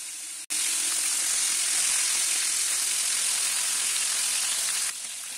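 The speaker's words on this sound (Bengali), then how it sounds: "একটু আস্তে সুস্তে ভেজে নিলে মাছগুলো ভেঙে যাবে না" Tilapia fish frying in hot oil gives a loud, steady, close sizzle that starts abruptly and holds without pause, with no voices over it.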